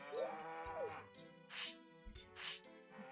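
A cow from the Nintendo 64 farming game Harvest Moon 64 moos, a few soft drawn-out lowing calls heard faintly and close, with no talk over them.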